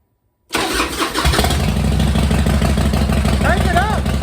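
A Harley-Davidson Fat Boy motorcycle powered by a jump box cranks briefly, then fires up and settles into a loud, steady, rumbling idle close by, with a faint voice underneath.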